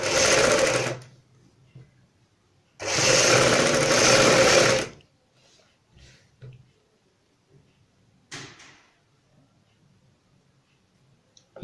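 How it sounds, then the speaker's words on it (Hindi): Sewing machine stitching a fabric strip onto the neckline of a kurti, running in two close, loud bursts of steady whirring separated by a pause, followed by faint handling noises and a short final whir. "ऊपर से सिलाई लगाएंगे।"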